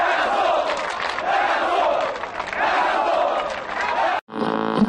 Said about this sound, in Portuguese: muda o coro da torcida